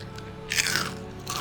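Edible grasshopper crunched between the teeth, a few crisp bites and close chewing crackles heard up close with no talk.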